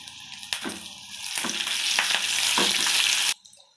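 Dry red chilies, green chilies and curry leaves crackling in hot tempering oil for an Andhra-style gongura dal, a loud close sizzle that swells in bursts and stops abruptly near the end.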